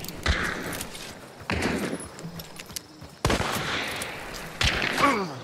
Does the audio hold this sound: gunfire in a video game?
yes